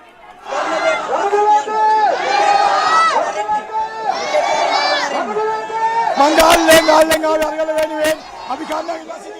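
A large crowd of protesters outside the Prime Minister's house in Colombo, a dense continuous babble of many raised voices and shouts, with sharp clattering bursts and cheering toward the end.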